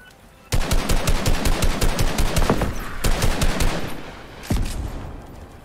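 Gunfire in the video game Fortnite: a loud, rapid, evenly paced automatic burst, a brief gap, then more fire and a final shot, all close and with no talking.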